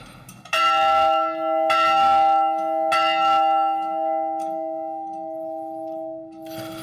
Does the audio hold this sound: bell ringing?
yes